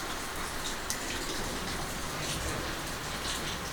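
Steady rain falls outdoors in cold, wet weather, a dense continuous hiss of drops hitting surfaces at close range with no talking over it.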